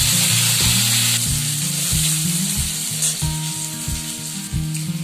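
Potato pieces fry in a little oil, giving a loud, steady sizzle up close with repeated stirring scrapes and clicks against the pan, and no one speaking.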